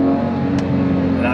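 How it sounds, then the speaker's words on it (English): A 997.2 Porsche 911 GT3 RS engine holds a loud, steady high-pitched revving drone up close, with no voices. "I did not expect this car to sound this good."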